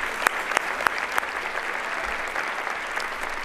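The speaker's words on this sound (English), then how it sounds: "Can we give her one more round of applause?" Audience applause at a youth awards celebration, steady sustained clapping from a crowd with a few sharper nearby claps, no talking over it.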